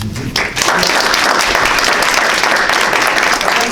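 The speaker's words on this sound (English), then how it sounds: "for that round of applause" Audience applause at a community climate resilience policy talk, a dense, steady clapping from a room full of people that swells quickly after a brief dip and holds loud throughout.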